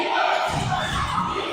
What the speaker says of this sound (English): Crowd going crazy over there.